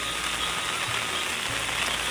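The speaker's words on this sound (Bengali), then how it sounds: "বৃষ্টি তো কমার নামই নেই, বৃষ্টি হয়েই যাচ্ছে একই ভাব" Heavy monsoon rain pours down steadily in a flooded area, a dense broadband hiss of drops striking surfaces that fills the whole stretch without letting up.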